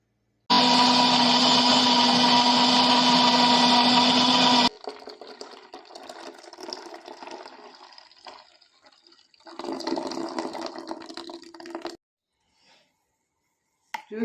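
Blender grinding apple, beetroot and carrot with a glass of water for juice, running loud and steady for about four seconds, then quieter whirring and sloshing in bursts before stopping.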